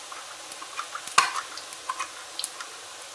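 Sparse sizzling crackles and soft pops from sev, a gram-flour noodle snack, frying in hot oil in a large kadai, with one sharper click, spaced irregularly over quiet.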